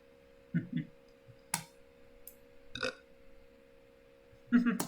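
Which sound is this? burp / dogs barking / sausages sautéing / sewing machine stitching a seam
burp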